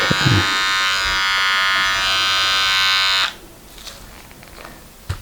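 An Andis Slimline Pro hair trimmer with a modified blade runs alone up close, a loud steady electric buzz lasting about three seconds before it switches off, leaving faint room noise and small handling clicks.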